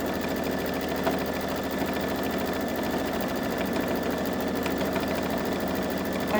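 A Babylock Solaris Vision embroidery machine stitches a monogram, giving a steady, continuous mechanical whir with a fast rapid needle rhythm, close and even throughout with no talking.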